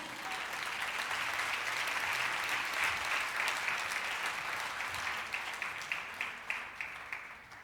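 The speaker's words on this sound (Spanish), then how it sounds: "dele un aplauso a Cristo" A church congregation claps for Christ during a sermon, a broad, sustained roar of applause that grows full and then thins into scattered, sharper claps toward the end.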